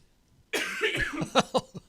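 A single fit of coughing, several harsh bursts in quick succession, close and fairly loud, trailing off at the end.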